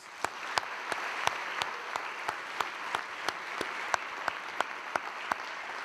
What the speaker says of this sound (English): let's give those judges a round of applause